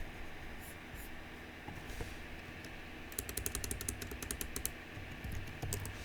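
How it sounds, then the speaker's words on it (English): Computer keyboard typing, faint and quick clattering keystrokes in bursts over a low hum in a home podcast setting. "I'm gonna do some typing here, guys."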